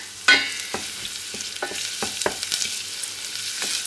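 Shallot fries in a pan with a soft, steady sizzle, broken by several sharp clicks and scrapes of stirring, close and fairly quiet.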